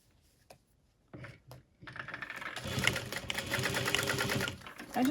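A sewing machine stitches parallel lines on a handmade bowler bag, starting after a few short clicks and running as a steady, close, moderately loud whir for the last few seconds.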